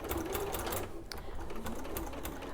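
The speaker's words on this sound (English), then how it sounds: "Do some reverse stitching just to make sure it doesn't come apart." A sewing machine runs steadily while reverse stitching a seam on a sewn animal head, a close, continuous motor whir with a brief dip midway before the needle keeps going.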